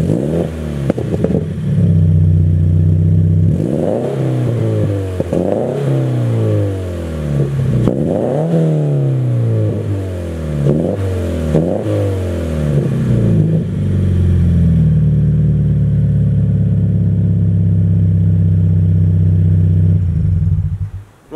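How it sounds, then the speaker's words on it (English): Car engine fitted with a new aftermarket catback exhaust, revved repeatedly in loud rising and falling sweeps, then settling into a steady deep idle before cutting off. "I will give you a quick little sound clip of what the car sounds like with the new Nvidia catback on"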